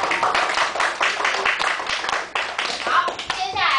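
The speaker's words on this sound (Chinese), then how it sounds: "宝宝妈妈最后一次帮我们拍拍手" Parents clap their hands in a quick, rhythmic burst at a children's martial arts winter camp, with a voice and other talk mixed in under the claps.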